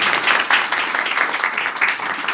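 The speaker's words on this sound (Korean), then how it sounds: "박수 부탁드리겠습니다." An audience at an academic forum on capital markets and ESG investing applauds a panelist's introduction, a steady moderate clapping that holds evenly throughout.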